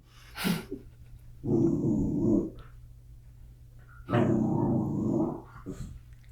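A dog growls in two long, low rumbling bursts with short breathy pauses between, close and fairly loud.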